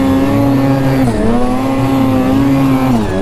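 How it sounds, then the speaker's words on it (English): A loud engine holds a high, steady revving whine, pitch dipping briefly and rising again, close up and continuous throughout. "my motor's revving so high I cannot hear what you're saying"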